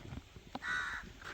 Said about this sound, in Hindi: ये तो कौवा है।